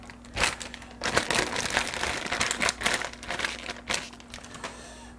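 A bag of tater tots crinkles loudly up close while being emptied, with repeated rustling bursts and light rattling of the tots as they pour out over a few seconds.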